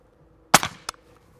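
One suppressed rifle shot from a Liberty Sovereign silencer lands as a loud, short, deep-toned crack with a quick tail, followed by a smaller echo or impact moments later. The surroundings are otherwise quiet.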